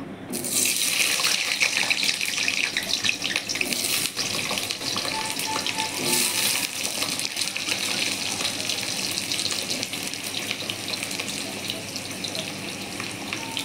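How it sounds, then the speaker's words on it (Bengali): Potatoes dropped into hot oil for a potato, pointed gourd and soya chunk curry, setting off a loud, steady sizzle with bubbling and crackle that continues evenly throughout, no voices. "তেল গরম হয়ে গেছে, এখন আলুগুলো ছেড়ে দেব।"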